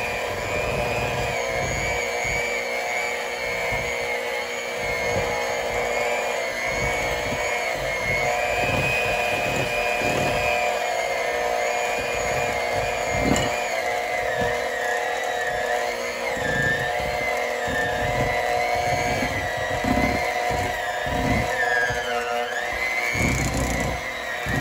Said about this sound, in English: it's kind of bogging my mixer down